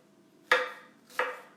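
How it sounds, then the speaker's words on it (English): Two crisp knife chops through a white onion on a cutting board, close and fairly quiet, spaced well apart in an otherwise silent kitchen. "I learned how to chop an onion from Rachel Ray."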